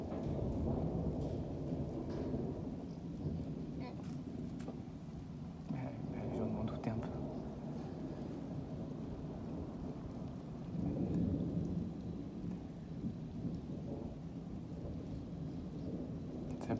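A violent summer thunderstorm over Clermont-Ferrand in Auvergne: steady heavy rain hisses throughout while low rolling thunder rumbles in the background, swelling around the middle and again near the end.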